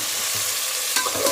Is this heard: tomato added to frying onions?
yes